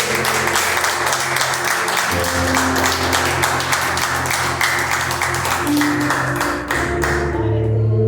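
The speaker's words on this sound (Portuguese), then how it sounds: "Palmas para o nosso Deus." Church congregation clapping during an online worship service, a dense, loud stream of hand claps over sustained organ-like music that continues throughout.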